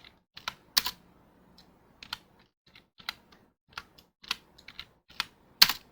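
Keystrokes on a computer keyboard while entering values into a chart table, a series of separate clicks spread irregularly over six seconds, a few harder presses standing out as Enter taps, close and clear over a quiet room with no talk.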